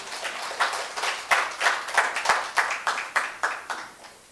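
An audience claps after an hour-long conducting lecture, a steady round of applause with distinct rhythmic claps that gradually thins out.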